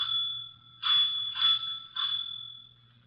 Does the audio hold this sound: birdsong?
no